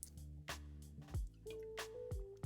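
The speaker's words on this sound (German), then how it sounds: "Ich muss mal einen Schluck Wasser nehmen." Someone takes quiet sips of water, with soft wet gulps and small drips heard close and faint amid low room noise.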